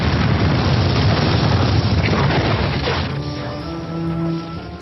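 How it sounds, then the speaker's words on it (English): A massive explosion blowing up a house by the city walls, a loud, sustained rumbling crash that slowly decays into a lingering low roar. "late one night there was a massive explosion"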